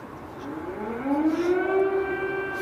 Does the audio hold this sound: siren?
yes